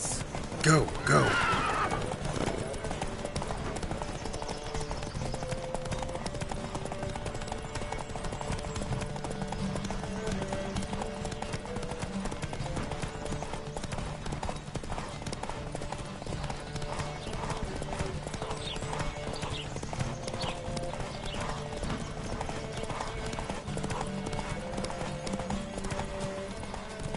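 Horse hooves pound in a steady galloping rhythm throughout a race in the video game Witcher 3, with a whinny near the start and a continuous layer of game music and ambience beneath.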